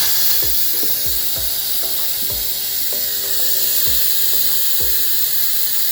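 A pressure cooker's valve is switched to vent after potato soup has cooked, giving a loud, steady hiss of escaping steam with a regular series of soft mechanical clicks and rattles beneath it.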